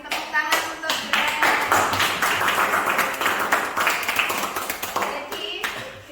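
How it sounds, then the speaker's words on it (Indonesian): Group clapping for Greg in a high school classroom, with sharp, distinct hand claps close by, a lively irregular rhythm, and a few voices underneath. "tepuk tangan untuk Greg"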